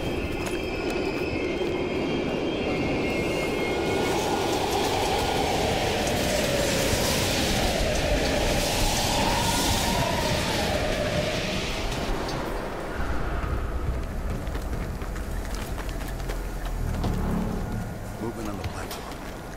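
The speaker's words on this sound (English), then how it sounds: "We can use a train to slip past." A train rumbles past through abandoned stations in the video game Call of Duty: Black Ops Cold War, a loud continuous mechanical roar with rattling that fades toward the end, with game voices talking over it.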